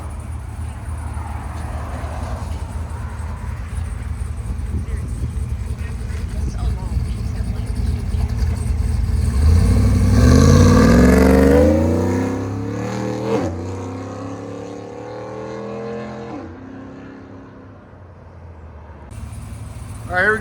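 A cammed GMC Sierra 6.2L V8 with long tube headers, resonator, no catalytic converters and open Valvetronic muffler valves idles loudly and lopes, then builds into a hard rev around the middle before settling back, with someone talking over it.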